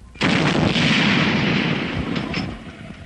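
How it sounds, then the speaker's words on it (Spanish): Shrapnel grenades exploding in an animated war cartoon, a loud sustained roaring blast with crackling debris that rumbles for a few seconds before slowly fading, no voices. "Eso es shrapnel. Granadas con metralla."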